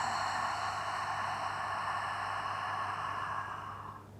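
A long, steady breath exhaled during a morning hatha yoga session, heard as a soft, even breathy hiss that holds for several seconds and then fades away, with no talking.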